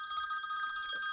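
A mobile phone rings with a steady electronic trilling tone during a meeting, continuous and moderately loud throughout the short moment with no talking over it.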